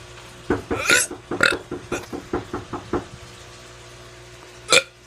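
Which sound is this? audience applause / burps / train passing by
burps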